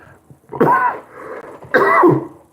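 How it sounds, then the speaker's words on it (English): Two short, rough coughs or throat-clears about a second apart, close and fairly loud, with no talking. "Y'all be hearing that little cough. I have like a little cough."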